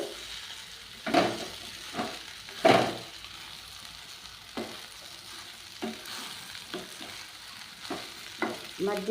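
Flattened-rice poha upma stirred in a pan over a low flame: repeated soft scraping strokes at an irregular rhythm over a faint steady sizzle, close by with no talk.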